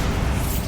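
A Bombarda exploding spell in Hogwarts Legacy lets out a brief, dense booming burst, loud and close, with a rumbling low end.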